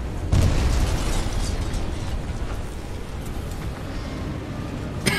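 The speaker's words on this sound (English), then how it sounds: "Too many explosions." Continuous loud game-combat din from Titanfall 2 on Master difficulty, with booming explosions and bursts layered over a dense rumbling background, no clear gaps between blasts.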